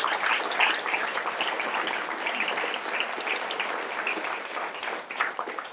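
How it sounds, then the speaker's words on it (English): A conference audience claps together in sustained applause, a dense even patter of many hands that holds steady throughout and dips slightly near the end. "Can I just ask for a round of applause for everybody that was part of that?"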